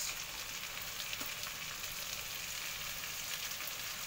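Onion and green chillies fry in a pan with garlic for a mushroom masala curry, giving a continuous, fairly faint sizzle with no talk and no stirring.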